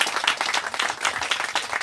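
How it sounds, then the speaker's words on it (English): Crowd applause at a veterans cemetery chapel and office groundbreaking ceremony, dense steady clapping from many hands, fairly close and continuous throughout with no talking. "Please join me in a round of applause to thank them for their service."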